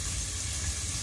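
Cabbage fries in a pan with a soft, steady sizzle and faint popping, continuous and fairly quiet throughout.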